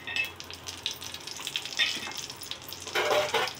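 Whole spices (bay leaf, cinnamon stick, cloves and cardamom) hitting hot butter and oil for Madurai-style tomato rice, giving a light crackling sizzle with brief stirring clinks and a stronger hiss near the end.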